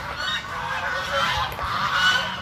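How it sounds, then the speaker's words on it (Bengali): Domestic geese at a palace garden in Jhargram honking loudly and close by, overlapping calls in a continuous noisy chorus under bright outdoor ambience. "ওই দেখ রাজহাঁস ডাকছে না"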